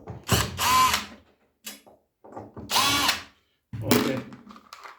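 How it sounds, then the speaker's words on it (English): Power drill whirring in several loud bursts with pauses between, backing out screws from the top cover of a Pioneer SX-1250 stereo receiver during a restoration. "So I'm using a drilling machine."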